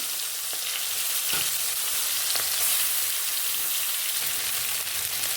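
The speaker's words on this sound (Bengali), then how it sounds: "আমি চিংড়ি মাছটাকে ছেড়ে দেবো, ভেজে নেব।" Prawns frying in a little oil in a wok, a dense continuous crackling sizzle like heavy rain, loud and close with occasional spatters, no talking.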